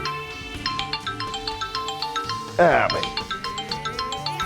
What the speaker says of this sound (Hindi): आ गया चौधरी सिकंदर का फोन।